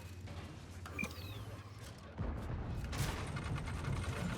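Tank cannons fire in a tank video game, a burst of shots landing around one second in, then more blasts and rumbling impacts, with heavy mechanical engine noise underneath.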